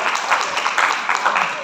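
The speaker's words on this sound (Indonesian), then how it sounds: "Tepuk tangan ya." An audience at an entrepreneurship training session for people with disabilities applauds, giving a dense, even wash of clapping with voices mixed in.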